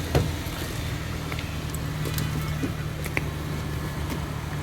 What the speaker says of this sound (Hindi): ये आ गई हमारी गाड़ी